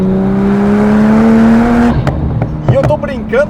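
A Porsche 911 Turbo S accelerates hard, its engine note climbing loudly for about two seconds before cutting off, after which people talk excitedly inside the car.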